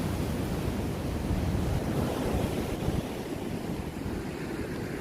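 Waves at the shore off Gambia wash in as continuous, loud surf, with rising water rushing around the listener and a steady roar of wind noise on the microphone throughout.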